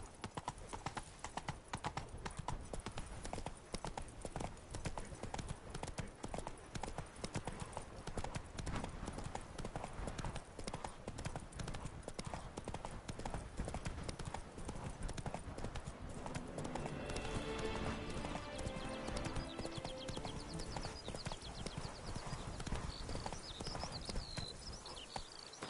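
Roach gallops with fast, continuous pounding hooves in The Witcher 3: Blood and Wine, a steady hoof rhythm with a horse's whinny and game ambience layered on top.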